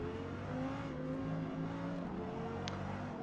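Lexus LFA racing at Silverstone in Forza Motorsport, a steady high engine whine with shifting tones as the car brakes into a corkscrew corner, continuous and fairly quiet, with no talk.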